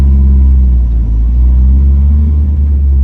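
A Dodge Dakota pickup with a swapped-in turbocharged SRT4 engine pulling in third gear, a loud, steady, close low-pitched engine rumble that holds without pause throughout, heard from inside the truck.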